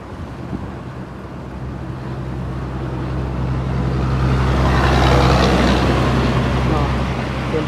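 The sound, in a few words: large truck driving on a road in Laos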